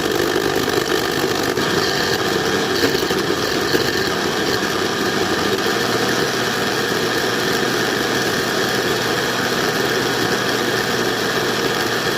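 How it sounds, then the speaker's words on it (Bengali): An electric grinder grinds pea lentils (matar dal) with a continuous, even motor whir that runs steadily throughout without pause, with no voices over it. "যতক্ষণ টকটা হচ্ছে ততক্ষণে আমি মটর ডালটা বেটে নিই সুইচটা দিই"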